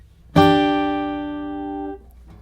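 A bluegrass guitar double stop in G position, root and fifth, is struck once and rings clearly, sustaining with a slow decay before being damped after about a second and a half.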